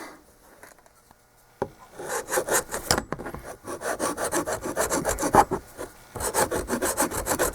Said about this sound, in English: I just took my file and gently rubbed it using this to keep the file flat.